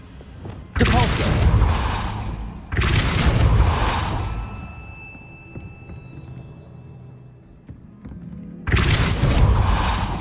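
Depulso spells cast in Hogwarts Legacy burst out as three loud, booming blasts separated by quieter game ambience, each hit sharp at onset and fading slowly.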